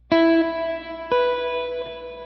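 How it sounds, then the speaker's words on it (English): Electric guitar through a Sonicake Levitate pedal on its plate reverb, two single struck notes about a second apart, each ringing with a smooth, shimmering decay, clear and fairly loud with no talking. "It's a plate algorithm the entire time"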